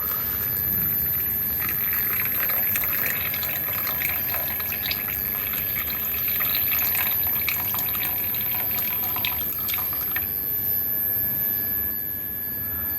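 A strained herbal infusion poured into a tumbler gives a steady, continuous trickle of liquid, close and fairly loud, running unbroken for several seconds before easing off, with no talking.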